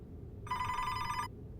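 A telephone bell rings in one continuous, bright burst lasting under a second, fairly near over a low background hum, with no talking.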